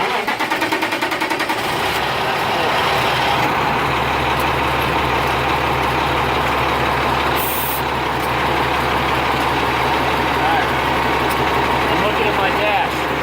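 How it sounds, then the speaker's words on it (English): A manual-transmission truck engine turns over and settles into a steady, loud, low-pitched idle that runs continuously close to the microphone, with a brief sharp noise partway through. "I cover the brake, push the clutch, that's 3, and I start the truck."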